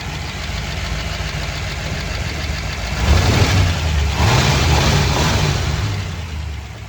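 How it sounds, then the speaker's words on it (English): A 1960 Plymouth Fury's 318 poly V8 runs steadily at idle, a low, even rumble that swells a little louder and rougher from about three seconds on before easing back, with no voices. "As you can see, it runs very well. It's a 318 poly engine."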